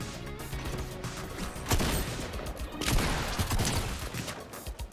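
Gunfire in a shooter video game, bursts of rapid shots and impacts spiking around the middle and later, under a noisy game mix.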